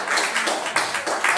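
A church congregation clapping in steady rhythmic beats, moderately loud and close, without talk.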